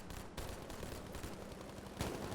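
Gunfire in the mobile shooter game Battlefield Mobile, a dense, continuous barrage of shots with a sharper burst near the end, fairly faint and with no talking.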